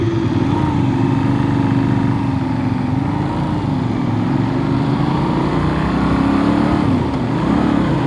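Benelli 800 trail motorcycle rolling slowly in first gear, a steady, loud low engine drone with a slight rise and fall in pitch, no talk over it.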